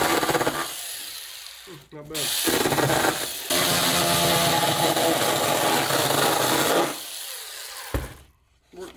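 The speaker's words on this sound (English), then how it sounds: "I don't have a knife, but what I do have" A chainsaw tears loudly into a cardboard box for several seconds, cutting and stopping and cutting again, with a short spoken remark at the end.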